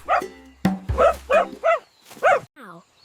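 A run of about five bouncy, voiced woofs imitating a dog in a children's nursery song, evenly spaced and close, ending with a short sliding whine.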